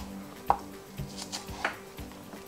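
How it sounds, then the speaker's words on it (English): A sharp knife chops thick scallion pieces on a cutting board, giving a few sparse, crisp knocks spaced about a second apart in an otherwise quiet kitchen. "for the bigger pieces, like the thicker ones, you want to increase the surface area, so you cut them like so"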